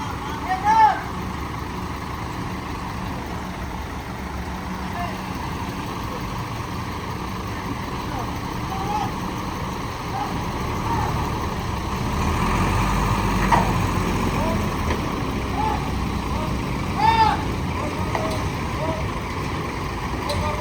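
A truck pulls a stuck Harapan Jaya double-decker bus: heavy diesel engines drone and rev continuously, rising in the middle, while people talk and call out throughout.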